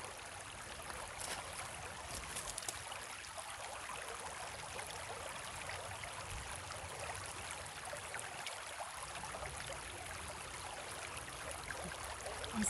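Flowing water of a small stream near Hanno, Japan, a steady bright trickling and burbling rush that runs evenly throughout, close and moderately quiet, with no talking.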